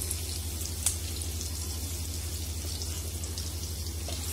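Crushed garlic frying in a pan for moong dal amti, a steady soft sizzle and crackle held at an even level, with one brief sharper pop near the start.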